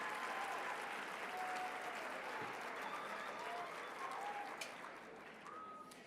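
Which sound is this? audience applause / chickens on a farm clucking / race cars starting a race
audience applause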